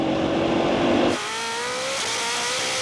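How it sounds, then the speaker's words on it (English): A Koenigsegg Jesko Absolut or Bugatti Chiron Super Sport hypercar launches hard in a drag race, a loud roaring engine note that drops sharply after a second into a steady high-pitched pull as the car gets away. "He's taking off."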